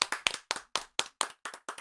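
Hands clap close by, about eight sharp claps in a steady, fairly quick rhythm with short pauses between them, heard alone.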